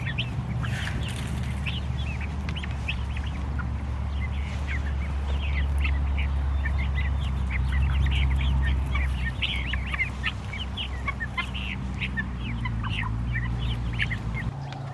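A flock of chickens being fed corn calls constantly in busy, overlapping clucks and squawks over a low background rumble, close by and lively, with no talking.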